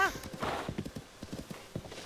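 Clip-clop hooves of a wild horse run in the video game Zelda: Tears of the Kingdom. Close, uneven beats of galloping come with a brief whinny-like call at the start.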